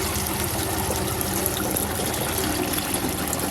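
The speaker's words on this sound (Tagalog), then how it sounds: "So, lalagay po tayo ng tubig." Water pours steadily into a manual knapsack sprayer for mixing herbicide on a farm, a continuous close splashing and trickling fill with no talk.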